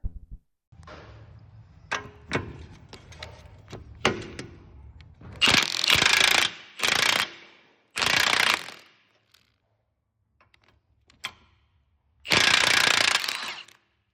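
A torque wrench tightens bolts on a BMW E39 near the steering: sparse ratchet clicks first, then several loud bursts of rapid ratcheting separated by silent gaps, close up.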